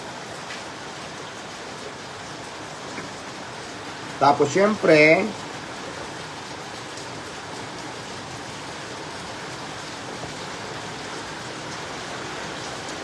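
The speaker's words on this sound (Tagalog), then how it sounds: "Ang lakas ng ulan, guys." Heavy rain pours steadily as a continuous, even hiss throughout, with a person speaking briefly over it midway.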